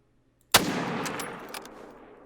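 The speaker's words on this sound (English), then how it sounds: "I'm just going to be trying to shoot so we can see just how far it's going to be bouncing with the first shot of the recoil" A single sharp, loud .30-06 rifle shot in theHunter: Call of the Wild, fired once after near silence, with a booming report that decays over about a second and a half and a faint echo following, no talk.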